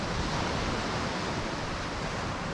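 Waves wash steadily onto a sandy beach near Dornoch, Scotland, a continuous broad roar of surf that stays loud and even throughout, with no voices.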